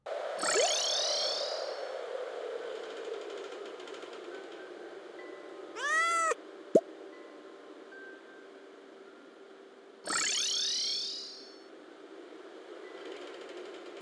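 Cat meowing in a Stardew Valley video game cutscene, two loud swooping meow calls with a chiming shimmer and a brief mechanical click between them, over a soft game music bed.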